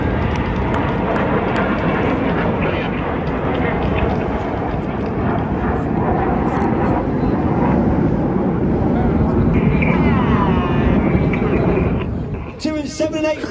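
Red Arrows jets perform rollbacks at a seaside airshow, a broad, loud, steady roar of jet engines that persists for several seconds and dies away near the end.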